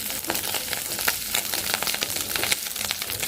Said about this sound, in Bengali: তো এই যে মাছটা ভাজা হয়েই যাচ্ছে